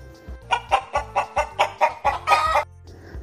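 A hen clucks in a quick rhythmic run of about ten short calls, close and clear, ending in a louder drawn-out squawk.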